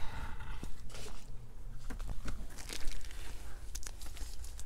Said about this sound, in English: I'm just gonna get another plastic bag here so that it doesn't make a mess.